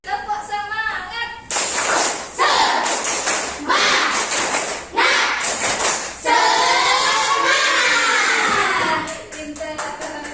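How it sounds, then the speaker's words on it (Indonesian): Classroom children perform a rhythmic spirit clap together, loud bursts of patterned clapping in short sections, with young voices chanting along between the claps. "Yuk kita tepuk semangat dulu biar semangat ya."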